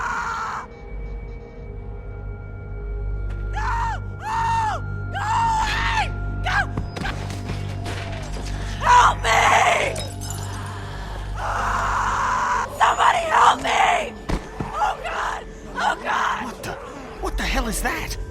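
Inside The Walking Dead video game, a stretch of ambient rumble carries strained gasps, groans and wailing cries that rise into louder screams, with voices talking in between.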